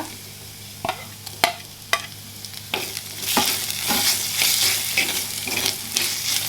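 Onions with ginger garlic paste sautéing in a pan, soft sizzling that swells louder in the second half, punctuated by several sharp scrapes and knocks of a spatula stirring.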